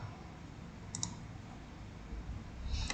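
A computer mouse gives a quick double click, small and close, over a faint steady background hiss.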